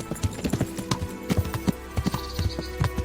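Horse hooves clip-clop in a steady, brisk rhythm in the video game Kingdom Come Deliverance, loud and close with no talk over them.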